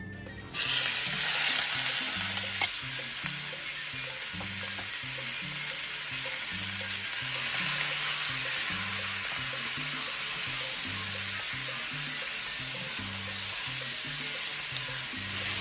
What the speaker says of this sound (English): we're going to take our peppers and onions and we're going to saute them off in this nice hot pan